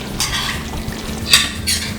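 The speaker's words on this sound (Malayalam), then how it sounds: "ഒന്ന് ഇളക്കി കൊടുക്കാം" A spoon scrapes and clinks in a pot while stirring fried onions, nuts, raisins and coriander for Thalassery mutton dum biryani, three short metallic scrapes over a quiet kitchen background.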